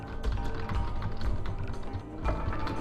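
Fast typing on a computer keyboard, a dense rapid run of close clicking keystrokes with heavier thuds mixed in, steady throughout with no talk.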